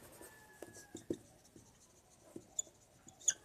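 Chalk or marker scratches and taps on a board as an equation is written in a maths class, a quiet, irregular series of short strokes and clicks, close by with no talking.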